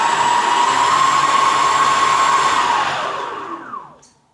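A VESC-controlled electric vehicle motor runs with a steady high whine, loud and continuous, then winds down as the motor comes to a stop near the end, with no talk.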